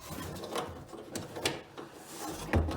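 The cargo door of a 2007-2011 Jeep Wrangler JKU is slid into place during a fuel tank swap. Close scraping rubs and light clicks come in bursts, ending with a firmer thud.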